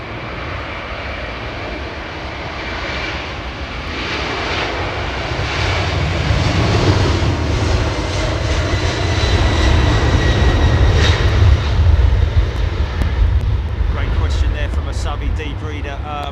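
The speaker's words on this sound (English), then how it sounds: "Is there a certain speed that aircraft need to be at before they take off, as in rotate, that point about now?" A fixed-wing airliner takes off at London Heathrow Airport, its engine roar building steadily from a distant rumble into a loud, sustained thrust with a deep low-end swell, while someone talks over it.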